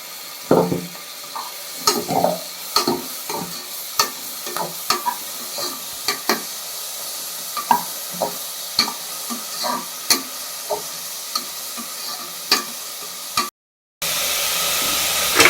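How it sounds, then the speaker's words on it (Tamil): Ginger, garlic and onion paste fries in a pan for tomato rice, with steady sizzling broken by repeated sharp scrapes and clinks of a spoon stirring against the pan. "அரைச்சி வச்சிருக்கோம்ல இஞ்சி பூண்டு வெங்காயம், இந்த விழுதை இப்போ போட வேண்டியதான்."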